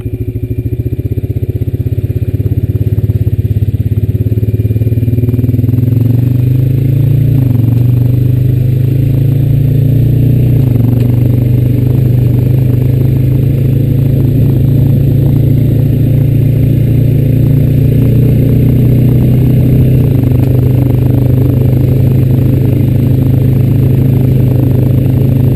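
Honda Rancher 420 ATV engine running steadily while riding outdoors, a loud, close, continuous low drone with small shifts in pitch and some clatter throughout.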